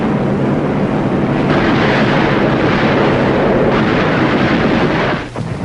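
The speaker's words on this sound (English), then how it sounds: "Big naval guns knock out shore-based installations." Big naval guns firing on shore installations during a World War II beach assault make a loud, continuous, heavy rumble of booming blasts that dips briefly at the end.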